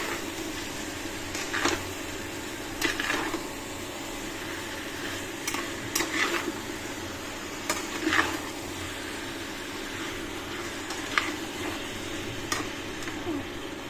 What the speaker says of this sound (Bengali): এবার ভালো মতো নাড়বো, নাড়ে সব মিশাই দিব মশলার সাথে।